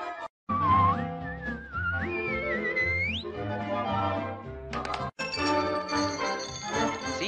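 A melodic whistled tune from a Pinocchio cartoon glides and warbles over a musical accompaniment with tinkling bell-like tones, fairly close and clear.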